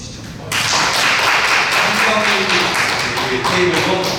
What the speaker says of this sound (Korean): 우리 테이블도 박수 한번 주시죠.